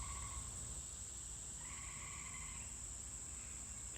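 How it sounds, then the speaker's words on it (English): Cicadas and other insects drone outdoors in a continuous high buzz, joined by a second chirping layer that rises and fades, all faint and distant with no talking. "Lots of cicadas still."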